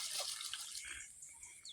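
Muscovy duck bathing in water, with faint splashing, dripping and trickling sounds in short irregular bursts, quiet and close.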